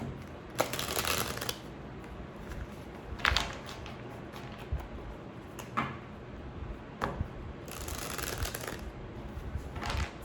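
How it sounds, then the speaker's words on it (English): Playing cards are shuffled in several bursts of crisp riffling and flicking, with quieter handling and taps in between. "I want you to see the shuffle."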